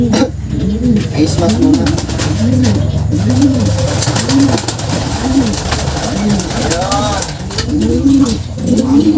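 Several pigeons coo in a steady, repeating rhythm inside a loft holding a young pigeon, with loud, close calls and a person talking over them.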